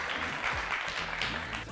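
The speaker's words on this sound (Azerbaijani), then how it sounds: "alqışlarla yola salırıq" Applause for quiz contestants at an Azerbaijani youth quiz show, a dense, steady round of clapping from an audience lasting the whole short stretch.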